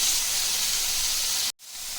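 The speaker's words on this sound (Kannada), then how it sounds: "ಈಗ ಈ ಪನ್ನೀರ್ ಪೀಸಸ್ನ ಇದರಲ್ಲಿ ಹಾಕೋಣ. ಚೆನ್ನಾಗಿ ಫ್ರೈ ಮಾಡ್ಕೊಳ್ಳೋಣ." Paneer pieces fry in a pan for a chilli paneer roll, giving a loud, steady hiss and sizzle that cuts out abruptly for a moment near the end before resuming.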